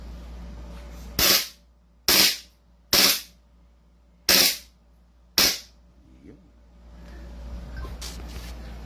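An airsoft Glock 18 pistol fires five sharp, loud cracks spaced about a second apart outdoors, each snap trailing a short echo, followed by quiet background rustle.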